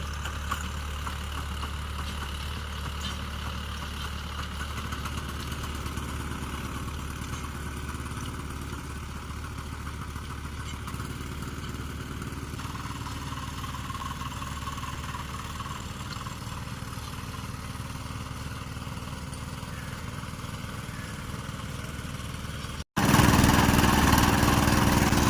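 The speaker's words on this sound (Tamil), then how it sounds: "அதனால் இப்போ வந்து டில்லர் போட்டுட்ருக்காங்க." A power tiller works a village field with its engine running in a continuous, steady, low chugging drone that stays at a constant level, then cuts off abruptly near the end.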